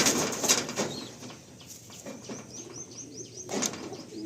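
Madrasi pigeons coo faintly in a pen, with soft low murmurs under a busy backdrop of chirping birds and general ambient noise.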